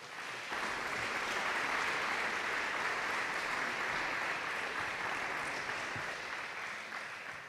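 An audience at an academic recognition night applauds award recipients with a sustained, even roar of many hands clapping that starts abruptly and keeps going through the whole stretch.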